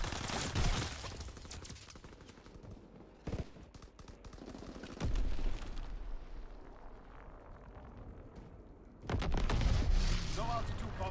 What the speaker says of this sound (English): Low altitude bomber inbound. Incendiary mission commenced.